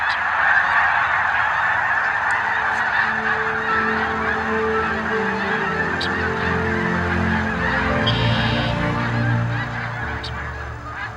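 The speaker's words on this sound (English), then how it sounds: "the ash pond, where the migratory birds take rest every winter after a long transcontinental flight" Geese honk repeatedly in a loud, steady chorus at an ash pond where migratory birds rest in winter, with overlapping calls near and far and no speech.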